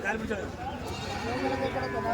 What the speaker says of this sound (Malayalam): ആട്